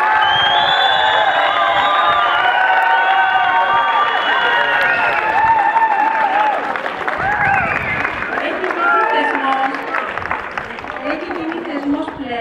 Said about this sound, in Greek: Τώρα πρέπει να χειροκροτήσετε.